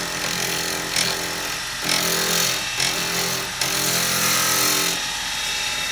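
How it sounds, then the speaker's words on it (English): An antler pen spinning on a lathe at high speed while being sanded, giving a steady loud rushing grind with a few brief shifts in pressure, heard alone without talk. "so I'm going to have to sand it while it's on high"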